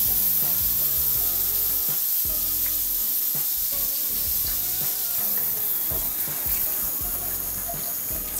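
Heavy cream goes into a hot pan of butter chicken, and a loud, steady sizzle and crackle of frying carries on throughout with no talking.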